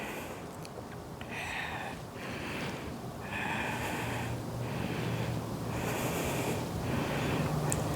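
Slow, audible breathing while holding a yoga warrior pose, with airy inhales and exhales through the nose repeating in a steady rhythm over soft background music.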